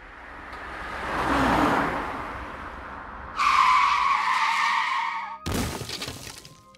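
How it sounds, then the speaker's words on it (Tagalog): A speeding car's tires squeal and skid in a loud, sustained screech, followed by an abrupt crash-like burst of breaking, shattering noise at the end, with no voices. "biglang sumulpot ang rumaragasang kotse"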